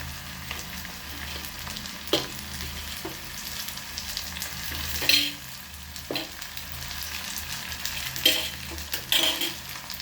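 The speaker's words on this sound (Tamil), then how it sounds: "இப்போ தக்காளியையும் சேர்த்து கொள்வோம்" Tomatoes and fennel seeds fry in a pan for a fish curry, giving a steady sizzle broken by several sharp scrapes and taps of a spoon stirring against the pan. No one speaks.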